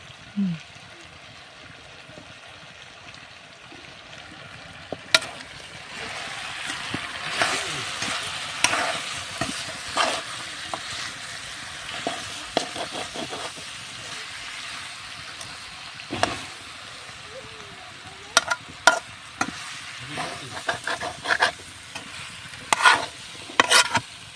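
Spice masala and village-style chicken sizzle in a pan while being stirred, a close crackling hiss punctuated by repeated scraping and clattering spoon strokes that grow busier toward the end.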